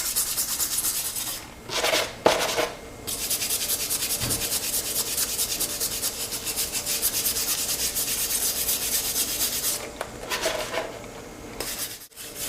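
An old knife blade is scrubbed and scratched, a continuous harsh rubbing rasp with steady back-and-forth strokes, close and loud, broken by brief pauses and a few sharp knocks.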